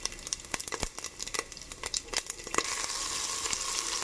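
Spices fry in hot oil with a soft crackling sizzle and scattered sharp pops, settling into a steadier hiss toward the end.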